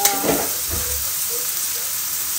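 Ground beef hitting hot oil in a pan, a close, steady sizzle with a brief stir or clatter at the start, then an even frying hiss throughout.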